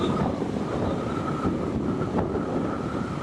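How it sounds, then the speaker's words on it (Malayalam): Wind buffets the microphone on a long motorbike road trip, a steady loud roar with low rumbling gusts that runs without break, no voices heard. "നല്ല കംഫോർട്ടായിട്ട് നല്ല കാറ്റ് വരുന്നുണ്ട്, നല്ല രസമുണ്ട് റൈഡ് ചെയ്യാൻ."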